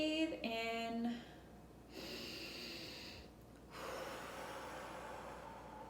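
Deep, slow inhalations during a breathing exercise for balancing the sacral chakra, a few drawn-in breaths with soft airy hiss, close and fairly quiet, with brief pauses between them.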